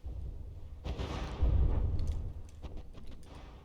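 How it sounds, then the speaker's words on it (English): Tank shells striking tanks in the video game Tank Wars 3, a run of booming impacts and rumbling blasts with scattered sharp cracks and clicks layered over a continuous low roar. "there's a couple of shells hitting"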